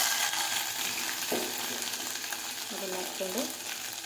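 Ginger and garlic fry in hot oil for a cauliflower and egg curry, giving a steady close sizzle with a few stirring scrapes, while someone talks briefly over it.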